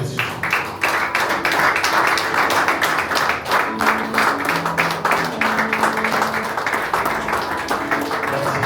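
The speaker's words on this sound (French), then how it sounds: "Sous vos applaudissements, merci." An audience at a wedding claps steadily, a dense patter of many hands close by lasting several seconds, with some music or voices faintly underneath.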